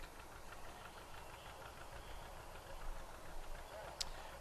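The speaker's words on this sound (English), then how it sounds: "Some real old tractors. Fordson tractor, Samson tractor, going back to 1919." Antique Fordson and Samson tractors dating back to 1919 rumble past in a celebration parade, a steady knocking engine drone with some background voices.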